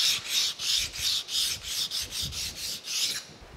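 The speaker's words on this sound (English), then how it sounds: "Deburr it." A metal planer part is deburred with a hand file, giving about eleven evenly spaced rasping strokes, close and loud, in a steady rhythm.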